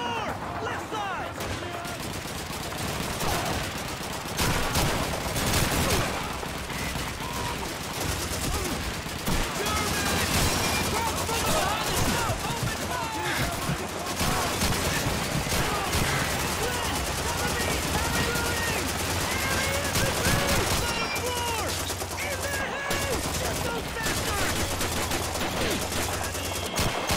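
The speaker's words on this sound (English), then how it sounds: "Private, get the 30 cal set up in that window! Lay down suppressing fire!" Sustained .30 cal machine gun suppressing fire mixed with rifle shots and battle noise in Call of Duty 2, loud and continuous throughout, with shouted voices under the gunfire.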